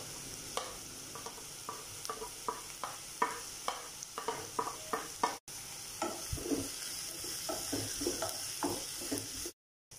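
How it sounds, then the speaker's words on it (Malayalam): Sliced onions and small shallots frying in a pan for a chicken curry, a steady close sizzle broken by repeated sharp scrapes and knocks of a spoon stirring, with no talking. "ഇതൊന്ന് നന്നായി ഫ്രൈ ചെയ്തെടുക്കാം."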